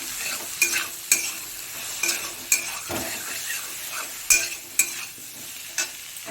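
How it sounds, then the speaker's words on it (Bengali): A spice paste of green chilli paste and cumin powder is sautéed and stirred in a pan for a fish curry, with a soft sizzle and repeated sharp scrapes of the spoon against the pan, close and without talk. "দিয়ে মশলাটাকে ভালো করে কষিয়ে নেব"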